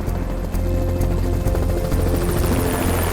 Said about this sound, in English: So the helicopter's in the air